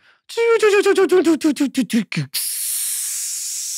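A voice imitates a steam machine cooling down in a Wild West tabletop game: a stuttering, falling tone, then a long steady hiss of released steam.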